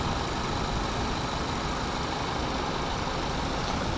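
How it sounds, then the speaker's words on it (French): A 2007 Renault Mégane 1.6 16V with an automatic gearbox idles quietly and evenly, a soft, muffled engine hum with no change in pace. "Donc là, on a le moteur qui est en route, qui est assez silencieux et qui fait pas trop de vibrations."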